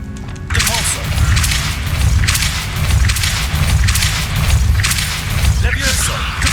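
Depulso spells go off in Hogwarts Legacy, a run of forceful whooshing blasts and thuds repeating every second or so over a low rumbling game soundscape, with a voice faintly present.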